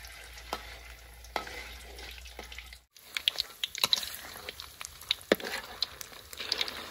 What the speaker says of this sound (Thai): ก็เดี๋ยวมาเริ่มทอดกันครับ